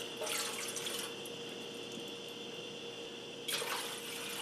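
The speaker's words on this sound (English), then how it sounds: "So I'm going to add 2 cups of water and a cup of rice." Water is poured into a cooking pot for rice pudding, a steady close splashing and trickling stream that swells twice at the start and end.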